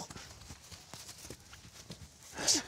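Heavy Norwegian horse hooves clop slowly on the ground nearby, a steady walking rhythm that ends with a sharp brighter knock.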